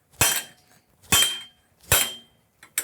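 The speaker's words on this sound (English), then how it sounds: "A small ball peen helps too. You can hit the ball peen into it." A small ball peen hammer strikes metal on a drag racing caddy build: three sharp, ringing metallic blows at an even, unhurried pace, close and loud, with a fourth hit just starting at the end. No one speaks.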